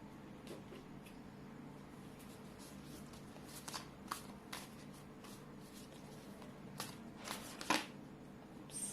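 A deck of tarot cards is shuffled close by, with soft continuous riffling and sliding, quiet throughout and marked by a few sharper flicks and taps near the end.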